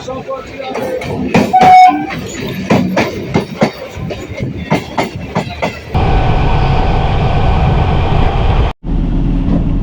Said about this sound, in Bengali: এই মুহূর্তে ছেড়ে দিল Sealdah Krishnanagar city galloping local Naihati station থেকে বেরিয়ে চলে যাচ্ছে কৃষ্ণনগর সিটির উদ্দেশ্যে